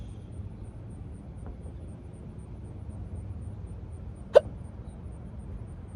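A single sharp hiccup from a person outdoors, short and distinct against a quiet low background rumble.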